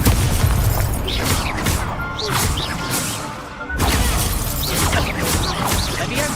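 Fire spell blasts in the video game Hogwarts Legacy, heard as repeated bursty booms and crashes with whooshing tails, loud and dense over continuous game noise.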